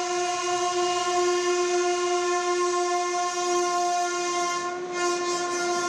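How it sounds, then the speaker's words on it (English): An Indian Railways Oxygen Express train sounds its horn in one long, loud, steady chord that holds throughout over a low rolling rumble of the moving train. "This is not a regular train. This is Oxygen Express."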